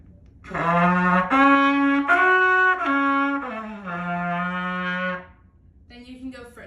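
A trumpet slurs back and forth between its second and third partials in sustained, clear tones. The notes are close and steady, then a short quieter note follows after a brief pause.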